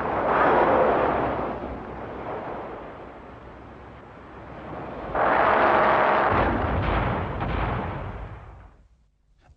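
A Goalkeeper close-in weapon system fires at subscale towed missile targets at low altitude. Two long, loud, roaring bursts of very rapid cannon fire are heard, the second ending abruptly before it fades to quiet.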